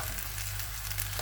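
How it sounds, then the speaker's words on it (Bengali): Potatoes and onion fry in oil with a soft, steady sizzle, faint and close, the crackle running unbroken through a brief moment with no voices. "এরকম করে ভাজি করে তারপর আলুটা আমি শুকনো মরিচ তেলে তারপরে এতে দিয়ে দিলাম।"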